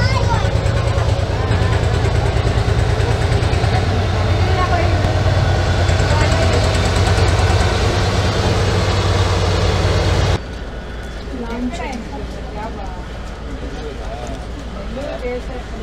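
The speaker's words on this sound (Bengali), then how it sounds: "ট্রেনটা আপনার এই এখন কুন্নু স্টেশন ছেড়ে যাচ্ছে" A train pulls out of Coonoor station with a steady, loud rumble that drops to a quieter hum partway through, while a person talks over it.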